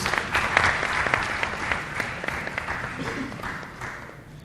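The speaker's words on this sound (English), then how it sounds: "please give them a round of applause as they join their folks" Applause from a sizable crowd at an annual lecture, steady and fairly loud at first, then gradually thinning out toward the end.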